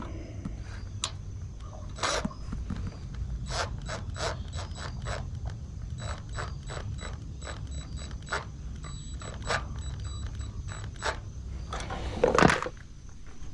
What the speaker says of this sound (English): Let me just get pliers on here.